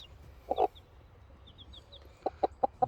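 Brahma chickens cluck in a few short bursts, one pair early and then a quick run of four at the end, fairly close, with quiet yard background between them and no talking.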